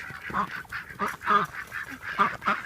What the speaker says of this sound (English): Yes, this is the Dusky Dutch Hookbill male.